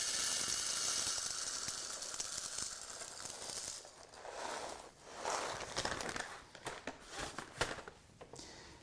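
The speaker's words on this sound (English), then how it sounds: "And then we'll grind some store-bought coffee." A Sage Barista Express grinding store-bought, not-fresh coffee beans gives a dense, continuous whirring crunch that runs steadily at first, then turns into uneven, pulsing bursts as the grinding winds down.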